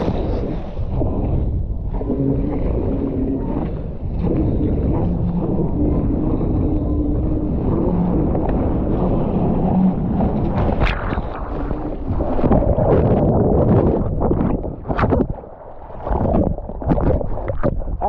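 A Foil Drive Fusion electric surfboard runs at full speed on water, heard as steady rushing water and heavy wind buffeting the microphone throughout, with bumps and splashes growing louder near the end.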